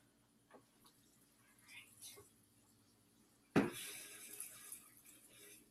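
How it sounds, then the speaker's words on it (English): Tap water suddenly gushes into a ramen cup after quiet, faint handling noises, a sharp onset followed by a steady hissing, splashing fill at close range. "fill it with water up to this line"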